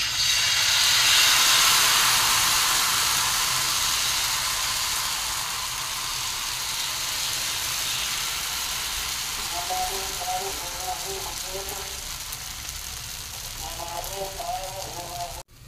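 Rice-batter ghavane frying on a hot griddle give a steady broad hiss and sizzle throughout, with a few brief tonal squeaks near the end.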